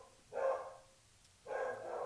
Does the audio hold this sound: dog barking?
yes